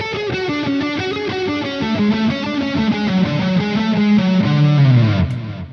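Electric guitar with a distorted tone runs a quick two-notes-per-string sequence over a Lydian pentatonic shape, a fast continuous stream of notes that ends on a sustained bend, loud and close with no talking.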